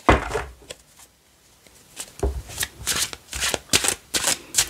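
Tarot cards are riffled and snapped in quick bursts, first a long shuffle, then a brief pause, followed by a run of sharp, close flicks and slaps as cards are handled and drawn, with a faint voice underneath.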